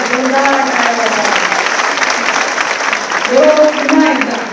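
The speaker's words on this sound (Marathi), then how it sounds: "जोरदार टाळ्या." Applause from a crowd at a political rally speech in Maharashtra, a dense steady clapping that holds for several seconds and swells near the end, loud and close.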